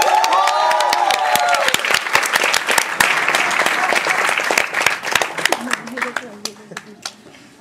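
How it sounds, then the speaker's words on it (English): An audience breaks into loud, sustained applause for a debater at a debating tournament grand final, with voices rising over the clapping at first before the claps thin out and fade toward the end. "Yes, a clap for Saad."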